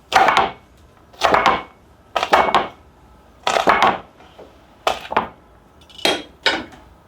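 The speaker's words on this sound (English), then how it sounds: "I'm just gonna give them a rough chop." A knife chops through crisp garlic scapes on a cutting board in short bursts of quick double strikes, evenly spaced, close and clear with no talking.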